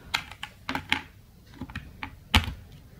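A FenSens wireless parking sensor unit, opened up on a bench with batteries fitted, gives off irregular light clicks, a sparse run of small ticks with one sharper snap near the end, close and quiet.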